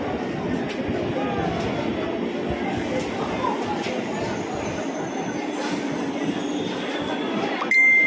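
A train at Naihati station bound for Sealdah rumbles steadily as it passes, with low rolling wheel noise and faint metallic clinks, ending in a brief high-pitched squeal.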